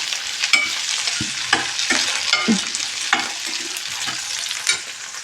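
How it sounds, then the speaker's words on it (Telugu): Chopped vegetables and green peas sizzle and hiss in a frying pan for masala pasta while being tossed and stirred, with close scraping clinks of a spoon against the pan over steady frying noise. "ఇంకొక 2 స్పూన్స్ గ్రీన్ పీస్, పచ్చి బఠానీ కూడా వేసుకొని అన్నిటిని చక్కగా టాస్ చేసుకోవాలి"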